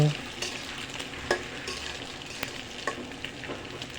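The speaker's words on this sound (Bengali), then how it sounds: "এখন নেড়েচেড়ে আমি সবগুলো একসাথে মিশিয়ে নেব" Egg, potato, green chili and onion sizzle steadily in a pan while a spatula stirs and scrapes through them, close and continuous with occasional clinks, no talk.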